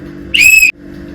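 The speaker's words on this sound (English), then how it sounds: "It comes with the whistle on top." A candy whistle molded on top of a sweet gives one shrill, steady whistle tone lasting about a third of a second, loud and close, with quiet room noise before and after.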